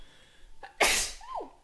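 A single close, loud human sneeze bursts out after a short inhale, followed by a brief voiced exhale.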